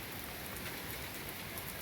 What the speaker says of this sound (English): it's been raining since yesterday morning, Saturday morning. It just got a little heavier overnight